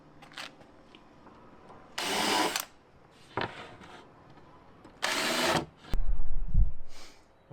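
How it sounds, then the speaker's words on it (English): Pre-drilling and countersinking screw holes in wall panels during a Vauxhall Vivaro campervan conversion: two bursts of about half a second each from a power drill, with lighter handling knocks between and after, close up and with no talk. "Now I'm just going to pre-drill them and give them a little countersink"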